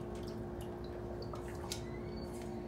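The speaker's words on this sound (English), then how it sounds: "I have my blender with some ice, and I'm going to pour in this" Daiquiri mixer from Kroger being poured into a blender over ice, for a Hennessy strawberry daiquiri: a soft, steady liquid trickle with faint drips over a constant background hum, close by.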